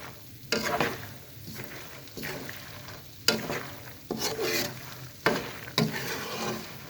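Peanuts roasting in a pan are stirred with repeated scraping, rustling strokes roughly once a second, each stroke a short loud burst over a faint continuous pan hiss.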